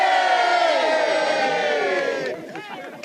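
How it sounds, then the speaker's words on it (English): A crowd cheers for dads setting off on a charity walk across Anglesey, a burst of voices and whoops lasting a couple of seconds before fading, with scattered chatter after. "Let's give a big cheer for the dads,"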